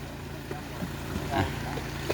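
A fishing boat engine drones steadily close by, with low hull thumps and splashing against the water.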